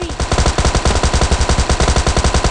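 Rapid automatic gunfire in the mobile game PUBG Mobile Lite, a loud, close, continuous burst of evenly spaced shots throughout.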